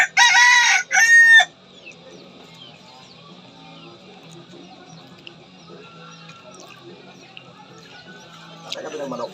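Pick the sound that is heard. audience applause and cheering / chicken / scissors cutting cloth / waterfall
chicken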